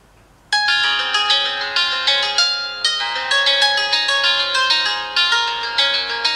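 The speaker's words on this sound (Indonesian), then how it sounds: "Kita coba tes ringtone-nya." A Nokia 3120c mobile phone ringtone plays a bright, repeating electronic melody of clear chiming notes, loud and close, with nothing else behind it.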